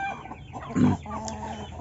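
A free-range native chicken (ayam kampung) hen gives a short, soft cluck amid quiet background sounds, close by.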